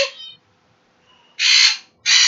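Remy, a pet bird, lets out loud, harsh shrieks indoors: a clipped one at the start, then two long, raspy bursts close together near the end, with no talking.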